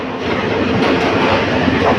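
The Dhaka Mail passenger train rolls into a railway junction, a loud continuous rumble of wheels and carriages with steady clatter, close and without speech.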